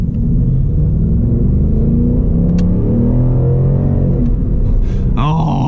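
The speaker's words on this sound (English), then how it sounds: "the way that it sounds going through that intake manifold through the filter. It sounds amazing." Ford Mustang Mach 1 with a 10-speed handling package revving through its intake manifold and filter, a loud, deep, steady engine rumble heard from inside the car on a night drive, swelling briefly near the end.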